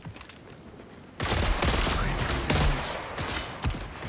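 A heat grenade detonates amid a dense burst of rapid gunfire during a firefight in the video game Marathon, loud and sustained after a quiet opening second.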